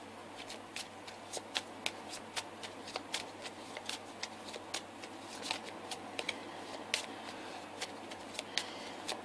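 Oracle cards for a tarot reading are shuffled by hand, giving a quick run of crisp, papery riffles and slaps that repeat in an uneven rhythm, close and fairly quiet, with no talking.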